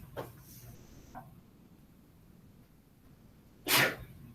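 A single loud, sharp human sneeze bursts out near the end after a few seconds of quiet room tone with faint small noises.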